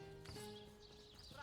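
Horse in the video game Divinity: Original Sin, a whinny with clip-clop hooves, loud and close, rising and falling across a short span.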